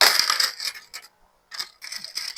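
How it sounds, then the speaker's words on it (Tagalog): Coins being counted by hand, bursts of bright metallic clinking and jingling as they are handled and set down, pausing briefly before the clatter resumes, close and fairly loud. "Ganon ang pagbilang ng barya."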